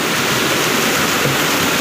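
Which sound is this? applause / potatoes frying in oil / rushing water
rushing water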